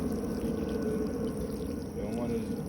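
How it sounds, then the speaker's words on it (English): Water pours steadily onto soil around a newly planted plum tree cutting, a soft continuous gurgling trickle close by, with someone talking over it. "I'm gonna give it a little water right here."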